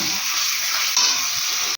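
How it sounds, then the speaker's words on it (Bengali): Steady, bright sizzling of ground ginger-garlic paste frying in a hot pan, continuous and close, with a brief stir near the end. "এটাকে ভালো করে কিন্তু ভেজে নিতে হবে এটা ততক্ষণ ভাজা হোক"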